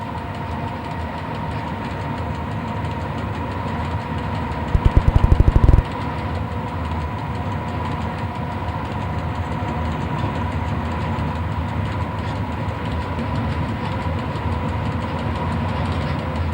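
Eurocity 30 Romulus hauled by an Italian class 656 electric locomotive runs uphill on the line toward Udine and Tarvisio, a steady close cab rumble with a short burst of rattling clatter partway through.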